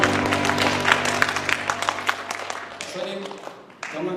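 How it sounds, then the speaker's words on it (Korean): A church congregation at a revival service claps together, a lively burst of many hands that rings out strongly and then thins and fades, with a sustained tone and voices beneath. "우리 옆 사람 격려하며 박수 한번 쳐줍시다."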